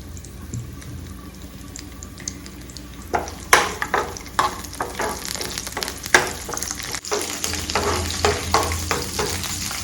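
Garlic, dried red chillies and curry leaves frying in hot oil crackle and sizzle up close, starting as a soft hiss and then bursting into dense, spattering pops and stirring scrapes that continue to the end.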